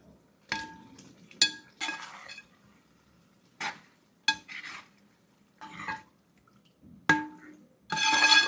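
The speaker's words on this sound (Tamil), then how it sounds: "இந்த மசாலா கூட மட்டனை நல்லா பெரட்டி விட்டு மட்டனில் மசாலாலாம் நல்லா இறங்க விடுங்க." Mutton pieces being stirred and tossed with masala in a metal pot, with intermittent scraping clinks and rattles of the utensil against the pot in short bursts, close and fairly loud, no talking.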